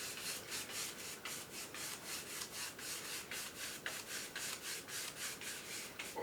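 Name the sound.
paintbrush strokes applying titanium white and thinner on canvas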